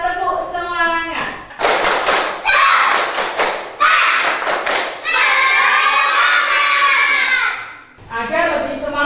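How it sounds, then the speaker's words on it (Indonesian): A school class claps a rhythmic spirit clap in unison, loud sharp bursts in patterned groups, with children's chanting voices between and around the claps. "Kita tepuk semangat."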